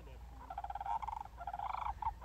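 Sandhill cranes call during a March migration gathering in Nebraska, giving quick rolling, rattling notes in two bursts, moderately close over faint background noise.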